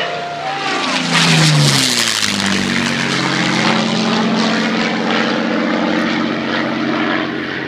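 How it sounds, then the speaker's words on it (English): A P-51C Mustang propeller warplane roars low past Wallaby Ranch, its piston engine loud and close with a falling Doppler pitch as it sweeps by, then a sustained throbbing drone as it recedes. "P51-C, beautiful, beautiful aircraft."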